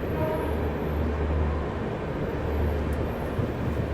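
A Paschim Express train hauled by a WAP-7 electric locomotive arrives at a station. A steady, broad rumble of the train rolls past, close and continuous throughout.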